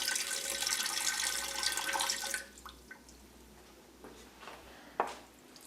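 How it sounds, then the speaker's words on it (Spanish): Water poured into a cooking pot for homemade vinegar caramel candy, a dense steady splashing stream for about two seconds, then stopping into quieter drips and small clinks. "Ponemos el agua en la olla."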